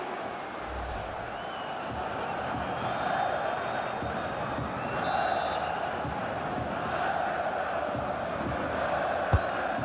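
Stadium crowd ambience from the football video game FIFA 22 during a Salzburg versus Bayern Munich Champions League match, a steady, broad roar of fans holding throughout with faint whistles and a few swells of noise, commentary voice partly over it.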